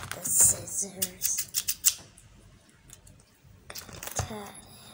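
Scissors snip through packaging while unboxing macarons, a string of sharp clicks and snips in quick bursts, fairly close, with rustling between.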